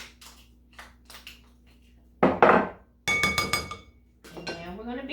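A utensil scrapes the last butter from a bowl while making chocolate chip cookies, a few sharp clinks and scraping strokes against the bowl with brief pauses between, close and fairly clear, with a voice speaking faintly in between.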